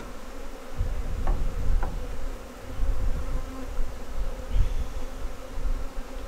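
Honeybees at an opened hive on an off-grid homestead hum with a continuous, droning buzz that swells and fades as bees fly past close to the microphone, with a few soft knocks and no talking.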